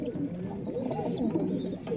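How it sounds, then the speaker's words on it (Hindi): Breeding pigeons in a loft cooing softly and continuously, several overlapping low throaty coos heard close, with no one talking. "अभी बाहर से बंद करेंगे कबूतरों को,"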